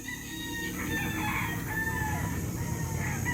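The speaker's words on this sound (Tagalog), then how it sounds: "Ang daming manok guys." Many chickens, fighting cocks at a farm, clucking together with roosters crowing over them, a busy, continuous flock chorus at moderate distance.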